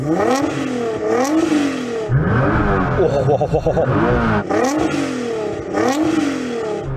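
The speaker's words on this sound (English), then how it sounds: "This is what a built GTR sounds like." A built Nissan GT-R engine revs hard several times in a row, each rev a loud, close rise and fall in pitch, with a short pause between bursts.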